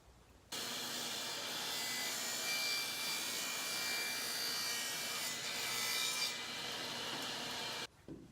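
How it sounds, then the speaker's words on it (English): A hand saw cutting a 45-degree bevel in PVC trim, a steady continuous rasping stroke noise starting abruptly and running about seven seconds before stopping, close and fairly even in loudness. "I'm just going to cut a 45-degree bevel on one side"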